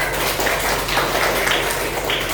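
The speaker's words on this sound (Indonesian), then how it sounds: "tepuk tangan dulu kita semuanya" Children clap together in a classroom, a loud, steady wash of applause that fills the whole moment with no talking over it.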